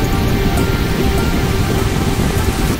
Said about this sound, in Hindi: हाँ बारिश बहुत ज़ोर से है, अभी भी चल रहा है, बारिश हो रहा है